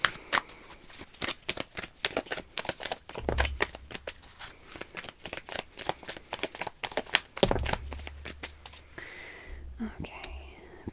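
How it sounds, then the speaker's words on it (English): Tarot cards being shuffled up close in a quiet room, with a steady run of crisp riffling slaps and soft shuffles repeating over about ten seconds, while a faint whispered voice sits underneath. "Let's get your tarot cards first"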